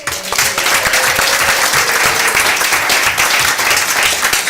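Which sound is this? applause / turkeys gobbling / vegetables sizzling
applause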